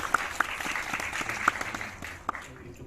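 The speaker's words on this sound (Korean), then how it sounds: "박수 한번 부탁드립니다." Audience applause at a Korean film screening Q&A with the director, a broad wash of clapping with a few sharp individual claps standing out, steady then thinning toward the end.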